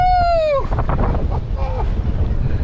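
Strong 20–25 knot wind buffets a sailboat on a beam reach between Samsø and Grenaa in Denmark. A loud, rumbling roar of wind fills the microphone after a brief whooping cheer at the start.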